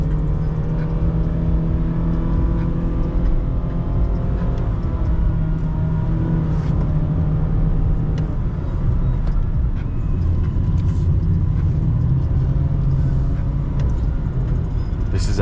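A Honda Fit's small engine with a CVT drones at steady high revs without shifting on backroads in Cyprus, a constant hum with road noise throughout and some faint voices in the background.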